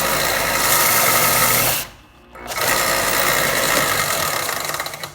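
A Porter Cable belt/disc sander running, a loud, steady whirring motor drone that cuts out briefly mid-clip and then spins back up.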